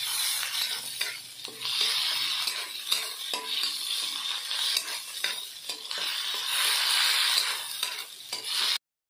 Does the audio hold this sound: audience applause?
no